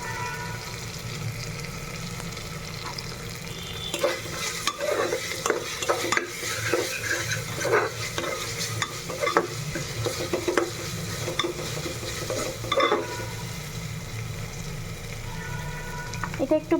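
Ginger garlic paste sizzles in a hot pan for khichuri while a spoon stirs and scrapes repeatedly, a steady frying hiss with occasional voice in the background.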